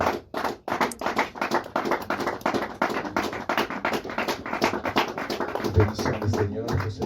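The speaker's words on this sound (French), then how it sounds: "Can we put our hands together for the Lord once again?" Church congregation clapping hands in praise, steady rapid rhythm of many hands close and loud, with voices and a low hum rising near the end.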